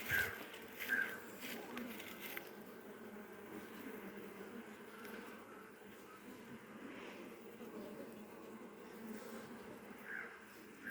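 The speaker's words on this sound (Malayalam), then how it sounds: "പണിത് കയറി വരികയാണ് ഈച്ച" Bees hum at a hive in a soft, continuous drone close by, with occasional louder buzzes passing through.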